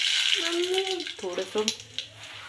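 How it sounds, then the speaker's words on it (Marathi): Mustard seeds sizzle and crackle steadily in hot oil throughout, with a brief spoken phrase in the middle. "छान अशी मोहरी तडतडू द्यायची"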